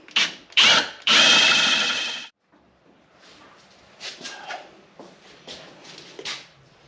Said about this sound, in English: So we're going to drill it out.